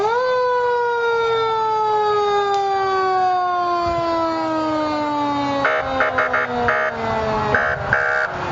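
Old Westwood police car siren at a town Independence Day parade, a loud wailing tone with many harmonics slowly falling in pitch, joined near the end by clattering crowd and street noise.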